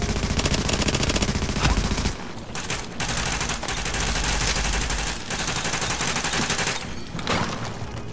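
Sustained automatic gunfire rattles through a Division rogue PvP match, loud and nearly continuous over eight seconds with brief gaps and bursts layered over game sounds.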